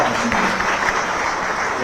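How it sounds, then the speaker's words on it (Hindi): Audience applauding a student's record board exam result, a dense, continuous wash of clapping from a large crowd with a voice faintly mixed in. "एक बार जोरदार ताली दिला।"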